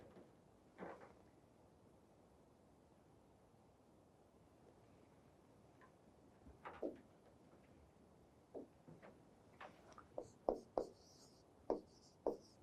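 Pen writing by hand on paper, faint and close, with scattered scratchy strokes that cluster into quicker bursts toward the end, in an otherwise quiet room.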